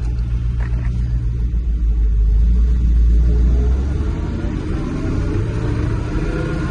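A 1970 Dodge D500 dump truck, revived after five years parked, labors uphill in gear with a loud, deep, steady engine rumble that swells slightly midway and holds on without a break.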